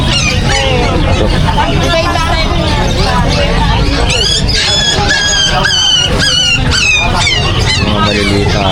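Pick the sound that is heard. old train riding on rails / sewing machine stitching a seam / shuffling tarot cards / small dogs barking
small dogs barking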